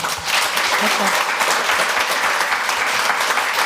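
An audience gives Carrielynn Victor steady, dense applause that holds at an even level from start to finish.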